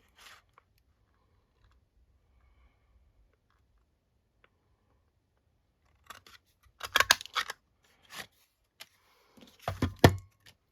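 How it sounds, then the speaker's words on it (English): Scissors cutting a paper flower for a papercraft board, near silence at first and then a cluster of crisp snips and rustles at close range, with another burst of cutting near the end and no talking. "Let's cut a bit of that flower off"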